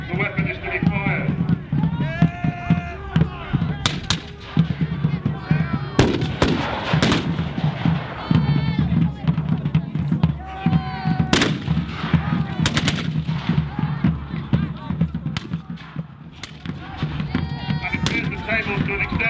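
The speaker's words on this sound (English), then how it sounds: "they fire their weapons using a piece of glowing match, slow match" Matchlock muskets crackle in a rapid, uneven volley at an English Civil War battle reenactment, with loud nearby shots and distant reports overlapping, under a narrator's voice and faint crowd noise.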